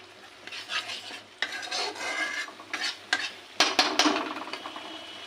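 Spiced vegetables for a mustard-fennel eggplant dish are stirred and fried in hot oil over a raised flame, giving a steady crackling sizzle broken by scraping spatula strokes and sharp metallic clinks against the pan.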